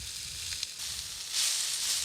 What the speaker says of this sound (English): The camp oven lid now becomes a pan to fry up the onions to go with the meat